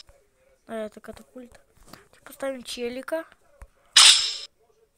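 A cannon firing in a Melon Playground clone video game: one loud, sharp burst near the end, after stretches of excited talking.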